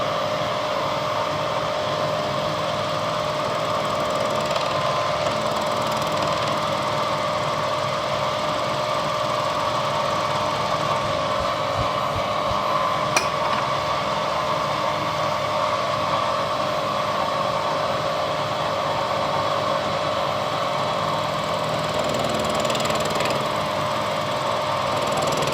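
A milling machine with a fly cutter machines cut-outs into pistons, giving a continuous loud mechanical whir with a rhythmic chattering undertone that holds steady for the whole stretch, no talking over it.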